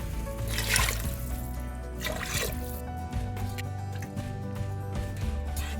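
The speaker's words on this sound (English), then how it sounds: "Now add the water as per the consistency of gravy you want." Water pours and trickles steadily into a pan of black chickpea curry over a medium flame, with faint splashing and sizzling, close by and fairly quiet.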